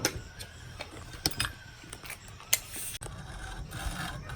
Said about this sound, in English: we just need to cut the bar with a hacksaw to size.